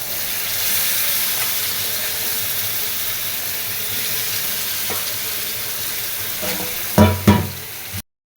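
Marinated chicken frying in a pan, a steady broadband sizzle and hiss running throughout, then a few louder clatters of stirring near the end before a brief cutoff.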